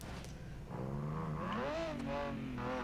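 Car engine in the video game Sportsman Unlimited 2, a Baja vehicle revving up with rising, wavering harmonic pitch sweeps, close and loud, with a couple of rev climbs and no talk.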